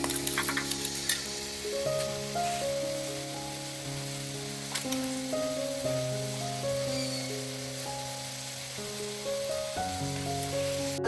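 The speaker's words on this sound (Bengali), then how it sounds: "আলুটা ভাজা হচ্ছে, চর্বিটা কেটে নিই।" Potato pieces fry in a pan with goat fat nearby, a soft, steady sizzle with faint crackles and occasional light stirring clicks, close and alone, while a low tonal hum runs underneath.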